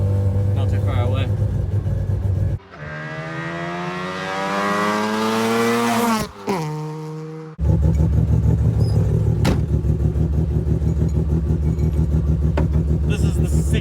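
A 1973 Mazda RX2 with a rotary engine idles with a buzzy rumble, then revs sharply upward, drops off, and settles back into a loud, busy idle up close, with a voice speaking briefly.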